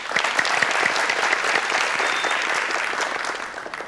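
Applause from a studio audience on a family quiz game show: sustained, dense clapping at steady loudness that fills the whole clip, with no talking over it.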